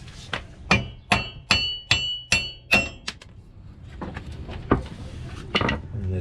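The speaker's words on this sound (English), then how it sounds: "We got the little hammer right here." A small hammer strikes a brake part on a Trailblazer SS with a big brake kit, knocking a wheel stud loose: about seven sharp, ringing metallic blows in a steady rhythm, close and loud, followed by a few lighter taps and clatter.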